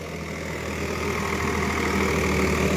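Steady, close drone of a John Deere tractor engine running at a constant idle-like pace in a field, a continuous low rumble with even mechanical hum and no talking.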